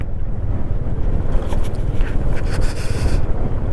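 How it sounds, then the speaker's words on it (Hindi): Strong wind buffets the microphone at Zojila pass, a continuous loud roar with gusty rumble and bursts of high hiss, no voices. "हवा बहुत तेज़ चल रही है, ठंड बहुत ज़्यादा है।"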